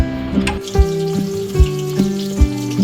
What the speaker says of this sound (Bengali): এখন মাছ ভাজা হচ্ছে।